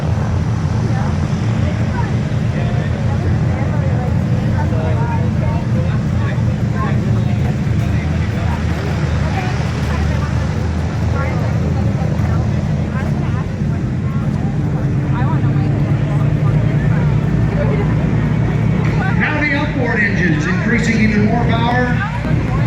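Four radial engines of a Boeing B-17 bomber running up to takeoff power at an airshow in Chilliwack, a loud continuous droning roar lasting over twenty seconds, with spectators talking nearby throughout.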